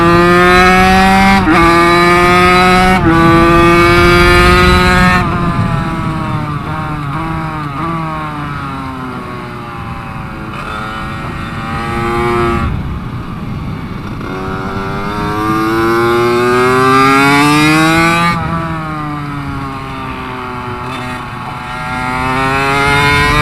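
Minibikes practicing for sprints on a race track, small engines whining loudly and revving up and down through repeated gear shifts as they pass nearby, a continuous buzzing drone with no talking.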